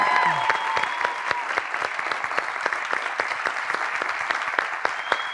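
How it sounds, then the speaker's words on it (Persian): Studio audience on a Persian comedy talk show applauding warmly, dense continuous clapping that carries steadily from start to end with a faint tone and murmur at the beginning. "یه تشویق خیلی جانانه به افتخار جناب خان"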